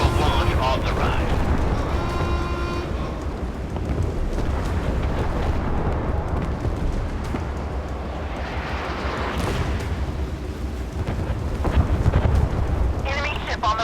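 The naval video game Force of Warships plays a torpedo launch and battle explosions under a steady roar of rumbling blasts, with an automated voice making announcements over it.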